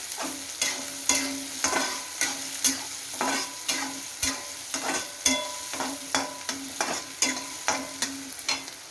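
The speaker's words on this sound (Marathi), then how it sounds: "कांदा गाजर मिरची पहा अशा प्रकारे चांगलं चांगलं परतून घ्यायचं" Onion, carrot and green chilli sautéing in a pan, with a steady crackling sizzle broken by regular scraping stirs roughly every half second, close up and with no talking.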